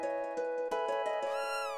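Cat meowing in the Chrono Trigger video game, a tonal chiptune-style meow with rhythmic synthesized notes around it, ending in a rising sweep, clear and close with no talk.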